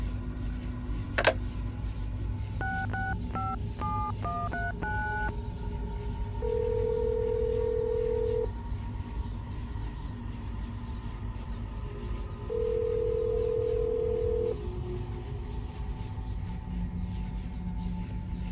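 Telephone dialing in the video game Assassin's Creed Brotherhood: a quick series of keypad tones, followed by two long steady ringback tones spaced apart over a low room rumble, with no talk.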